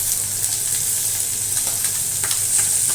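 Chopped tomatoes hit hot oil with green chillies and grated ginger in a pan for a Marathi pumpkin vegetable dish, giving a close, steady sizzle and crackle with light stirring.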